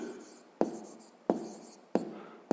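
Pen or chalk strokes on a surface while writing out a 5th-grade math exercise, with a series of sharp scratching taps at regular intervals, faint and close, with no talking.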